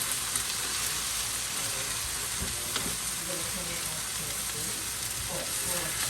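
Chicken and portobello mushrooms stir-fry in a hot pan, giving a steady, close crackling sizzle with occasional louder pops and scraping stirs.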